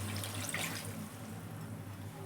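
A glass of water pours steadily into chicken gravy cooking in a pot, a continuous soft splashing and trickling that stays fairly faint, with no voices over it.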